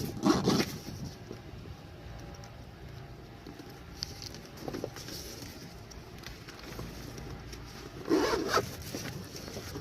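The zipper on the outside pocket of a Rightline Gear roll bar bag is pulled in two short, fairly faint rasping strokes, one at the start and one near the end, with quiet handling noise between.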